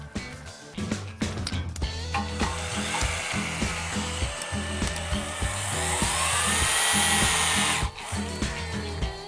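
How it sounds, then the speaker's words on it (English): A torque wrench gun tightens a structural bolt, a loud whirring power-tool drone broken by short pulses early on, then a long sustained run that cuts off and briefly restarts. "I'm going to hold my finger on the trigger of the gun and we're going to see what kind of tension we get."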